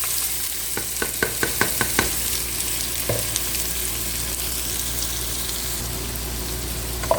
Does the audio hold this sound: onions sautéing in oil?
yes